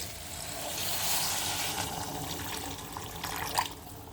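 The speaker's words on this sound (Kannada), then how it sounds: "ಹಾಗೆ ನಾನೊಂದು ಮುಕ್ಕಾಲು ಲೀಟ್ರಷ್ಟು ನೀರು ಹಾಕ್ತೀನಿ" About three-quarters of a litre of water pours steadily into a cooking pot for lemon tomato bath, a continuous soft splashing rush heard up close with no talking.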